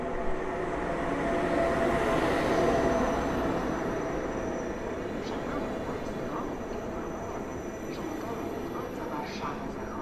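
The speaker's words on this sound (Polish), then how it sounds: "A Gama wjechała na peron 7." A Gama locomotive pulling into platform 7 at a station after dark, a steady low rumbling roar of the train that swells early on and then settles, with faint squeaks and clanks on top.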